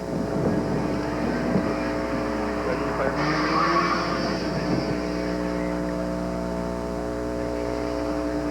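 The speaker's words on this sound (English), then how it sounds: "on the course is Reg Fonseca from London, driving a Mazda RX-7, non-turbo variety." A non-turbo Mazda RX-7 runs an autocross course at the 1988 Canadian Solo 2 Nationals. Its steady engine drone holds throughout with a brief rise midway, heard under a commentator's talk and wind noise.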